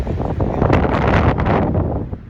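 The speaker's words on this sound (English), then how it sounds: "the wind is picking up, and I'm just loving the sound of the wind through the trees" Gusty wind blows through the trees of Paintbrush Canyon near 9,000 feet, a loud, dense rushing roar with rustling and heavy buffeting on the microphone, steady throughout and without voices.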